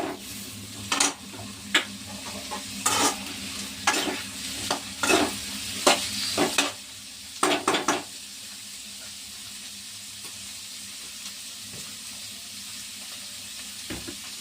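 Three green chillies fry in an oiled pan for veg manchurian, with a steady sizzle under a series of sharp scraping stirs in the first half, then a quieter continuous hiss with an occasional clink.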